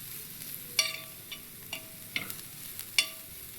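Sour chuka greens stir-frying in oil in a pan, a quiet soft sizzle broken by several sharp clinks of a spatula scraping and stirring, with no talk.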